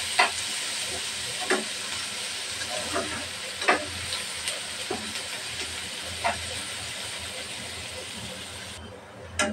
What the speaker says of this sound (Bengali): পেঁয়াজটা ভালোভাবে ভেজে নেব।